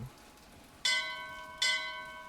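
A bell rings twice in BioShock Infinite, two bright metallic strikes about a second apart, each leaving a ringing tone that decays over a faint background patter.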